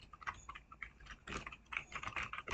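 Rapid typing on a computer keyboard while coding in Visual Studio: a close, steady clatter of key presses with short pauses, no voice.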